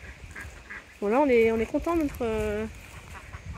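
Ducks in a pen during hot weather give a burst of loud, close honking quacks for about a second and a half, with someone speaking over them before and after.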